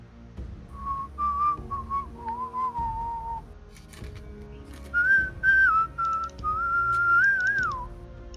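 A person whistles a short melodic tune close to the mic, two phrases separated by a pause, over a soft background beat with occasional percussive taps.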